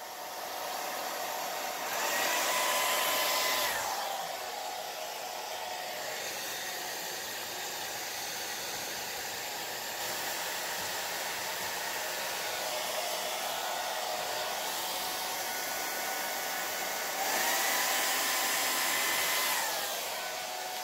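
A blow dryer on a low setting blowing across an acrylic paint pour on canvas, giving a steady, close airy roar with two louder swells as it moves nearer, no talking.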